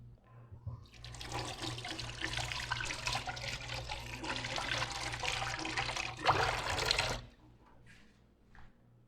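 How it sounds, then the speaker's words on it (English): Hands being washed under a running kitchen tap while making Salvadoran fish ceviche, a steady broadband splash and rush of water lasting about seven seconds before cutting off, with faint clatter afterward. "next step is washing my hands"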